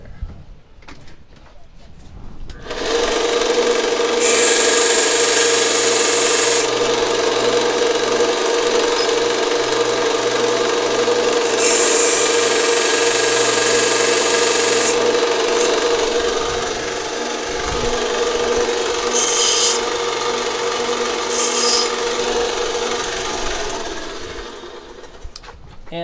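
Belt sander grinding down a steel fork tine, a steady loud whirring grind with harsher surges as the metal is pressed against the belt.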